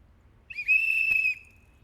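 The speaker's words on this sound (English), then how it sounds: "with this our party symbol whistle" A single whistle, blown as a political party symbol at a campaign announcement, gives one clear sustained shrill tone of under a second, close and loud, with no talk over it.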